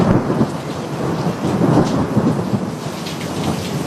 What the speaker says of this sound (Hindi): तभी जोर से बिजली कड़की।